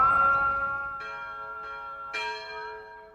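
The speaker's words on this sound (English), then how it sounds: "the peal of church bells from the Christian quarter" Church bells in Jerusalem's Christian quarter ring in slow, resonant strikes, each one humming and decaying before the next, heard from a moderate distance.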